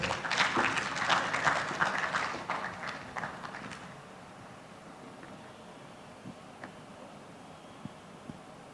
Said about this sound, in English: Please give applause to Bapak Armando.